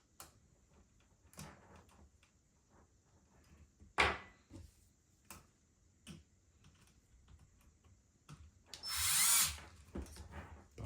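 Power drill driving a screw to fit a rear suspension link on a bicycle frame, heard in a few short separate bursts, with one longer, louder whir near the end.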